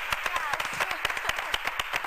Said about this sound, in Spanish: ¡Aplausos a Romina!